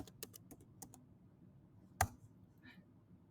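Quiet keystrokes on a computer keyboard come as a quick burst of several taps, a pause, then one sharper click, close and faint.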